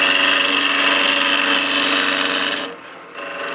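A skew chisel cuts a spinning wood blank on a lathe while a German smoker is turned, giving a loud steady rasping hiss that drops out briefly near the end, then resumes.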